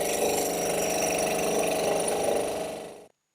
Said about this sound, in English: my little scroll saw here can easily stand up to this brass